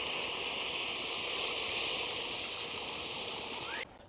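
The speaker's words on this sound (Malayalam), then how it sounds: "ആവശ്യത്തിന് വെള്ളം ഒഴിച്ചു കൊടുക്കാം" Water poured steadily into a pot of beef for Kerala-style beef soup, a continuous rushing gush that runs for nearly four seconds and then cuts off abruptly, leaving a faint hiss.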